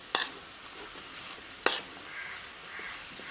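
Chicken gravy ingredients frying in a pan over a low flame, a soft steady sizzle punctuated by two sharp clanks of a spoon stirring against the pan, with no talking.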